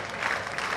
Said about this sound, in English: Asking for the crowd support, gets it, they're clapping.